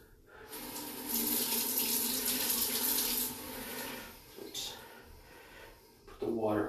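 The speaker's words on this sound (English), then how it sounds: "The water on a trickle here and try to see if she goes down there good enough." Water from a hose trickles and splashes down a drain, a steady running flow that eases off partway, with brief clanks and a voice at the end.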